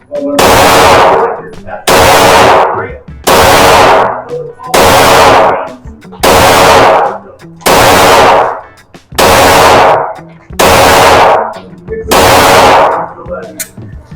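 Eight very loud pistol shots from an HK and a Glock 34 ring out at even intervals of about one and a half seconds, each with a long ringing decay before the next.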